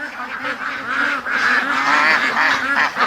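Ducks at a backyard pen give loud, honking quacks in a continuous overlapping chorus, close by and fairly strong, with no voices over them.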